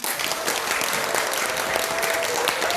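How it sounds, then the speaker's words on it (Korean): Dense, steady applause from a large audience after a speaker finishes at a Korean speaking contest, loud and continuous without pause, with a faint tone sustained underneath. "격려의 박수로 응원해주시면 감사하겠습니다"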